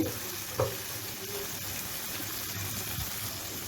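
Green chillies frying in a pan until wilted give a steady, close sizzle, with a couple of soft knocks near the start and around the three-second mark.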